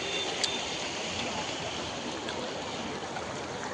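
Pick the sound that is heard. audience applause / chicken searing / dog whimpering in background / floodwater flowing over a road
floodwater flowing over a road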